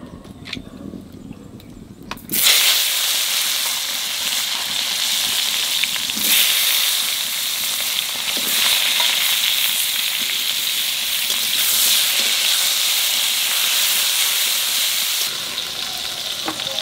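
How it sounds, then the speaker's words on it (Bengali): Eggplant coated in salt and turmeric hits hot oil and breaks into a loud, steady sizzle that continues evenly after a quieter opening, with occasional stirring scrapes. "বেগুনটা একটু লবণ আর হলুদ মাখায় নেব।"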